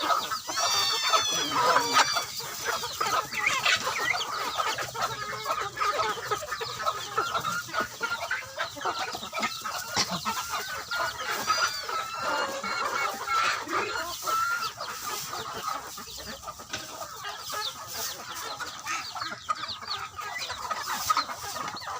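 Chickens cluck and squawk continuously nearby with ducks among them, a busy flock at feeding time with scattered bird calls and outdoor background noise throughout.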